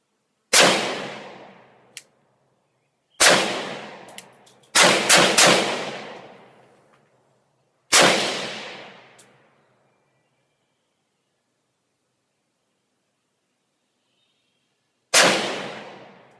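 Five loud pistol shots from an FN Five-seveN, spaced irregularly with long gaps, two fired close together in a quick pair; each sharp crack trails off in a ringing decay outdoors, no talking.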